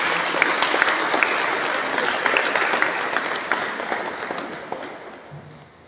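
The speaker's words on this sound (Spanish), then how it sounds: "Por favor, un aplauso" Steady, dense audience applause at the opening of an anticorruption training event, loud and continuous at first, then gradually fading toward the end.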